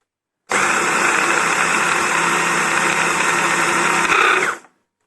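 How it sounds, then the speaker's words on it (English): A small electric grinder whirs through dried basil seed pods, a loud, steady motor buzz that starts abruptly, holds evenly for about four seconds with a slight rise near the end, then cuts off, with no talking. "So here I have my grinder, so nothing special. So let's do it."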